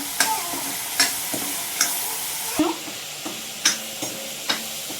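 Cumin seeds and ground spice paste fry in hot oil with a soft, steady sizzle, broken every second or so by sharp clinks of a spoon stirring against the pan, close and clear.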